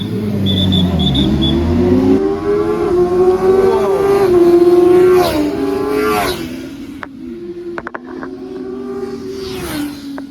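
A 749cc inline-four engine of a 2026 CFMoto 750SR-S motorcycle revving up and down repeatedly, a loud, close whine that rises, settles, then rises again with a gear-shift dip.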